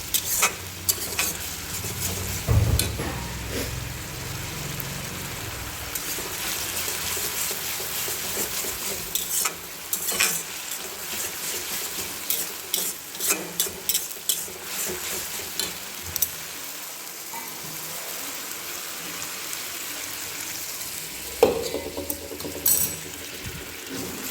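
Vermicelli upma sizzles in a pan while being stirred, a continuous frying hiss punctuated by repeated scraping and clacking strokes of the spoon, close and fairly quiet, with no talking.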